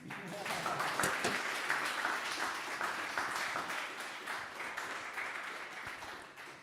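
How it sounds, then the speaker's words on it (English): Audience applause at a tech talk in Munich, a dense steady wash of many hands clapping that fills the room continuously, with faint voices mixed in. "you can clap again"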